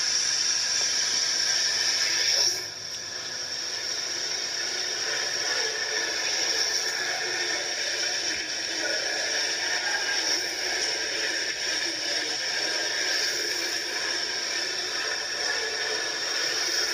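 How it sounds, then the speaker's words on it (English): Water recorded inside a cave at around midnight: a steady, faint hissing wash of noise with a slight shift early on, continuous for the whole stretch with no voices. "Now what you're hearing is water."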